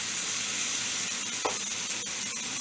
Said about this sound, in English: Flip that steak over.